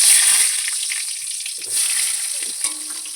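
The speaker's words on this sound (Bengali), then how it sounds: "বেগুনটাও আমি গ্যাসে ভেজে নিচ্ছি।" Eggplant fries on a gas stove with a steady, close hiss of sizzling oil, and faint crackles and pops scattered through it.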